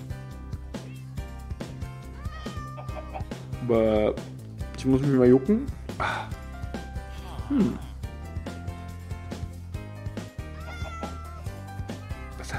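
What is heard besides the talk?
cat meowing in the video game Minecraft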